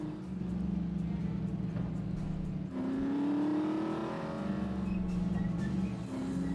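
Engine of a car in The Saboteur, steady droning hum with a rising rev as it accelerates midway, then settling back to a constant cruising tone, close and continuous.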